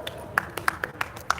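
Children clap in a sparse, uneven rhythm during a baseball clinic drill, about seven sharp close claps spread across a second and a half, with a faint voice or noise between them.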